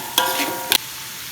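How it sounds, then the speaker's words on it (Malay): Lemongrass, ginger, onion and garlic are sautéed in a pan for nasi lemak sambal tumis, with two sharp stirring scrapes over a soft continuous sizzle, close up and with no voices. "I dah masukkan serai dengan halia, tumis."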